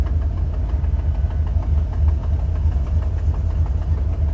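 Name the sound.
Buick 455 Stage-1 Regal-T engine idling, busted exhaust header gasket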